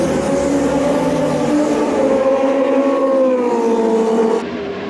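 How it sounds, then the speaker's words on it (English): Loud, steady roar of racing motorcycles at a track day, engines droning continuously with shifting pitch as bikes run the circuit, sound dropping abruptly near the end. "Sound of a track day"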